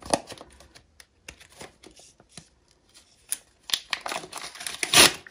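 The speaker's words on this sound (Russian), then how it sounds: "Ух ты, порвала пакет, супер." A plastic mail package from Shein tearing open during an unboxing, heard as a run of close crinkling, rustling and ripping bursts that build to a loud tear near the end.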